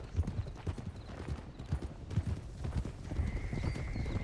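Horses' hooves clip-clop in an uneven series of hollow knocks, fairly close, with a horse whinnying briefly among the steps.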